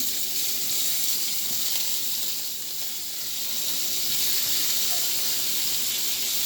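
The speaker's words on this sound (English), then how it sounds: "And so I'm just putting the shrimp in." Shrimp hit a hot pan in a low-carb meal, producing a loud, steady sizzling hiss that holds close and unbroken throughout.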